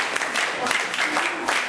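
Students in a classroom clapping together: a brief burst of steady, moderately loud applause with a dense patter of hands throughout.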